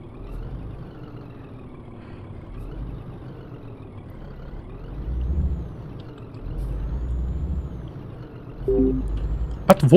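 A Scania truck in Scania Truck Driving Simulator runs downhill in twelfth gear and shifts down, its engine a steady low drone with rising and falling revs, ending in a sharp hiss and click.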